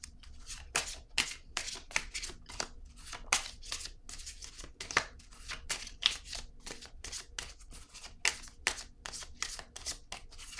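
Quick crisp riffles and flicks of cards being shuffled and drawn from a tarot-style oracle deck, close up in a fast irregular rhythm of sharp bursts with brief gaps between them.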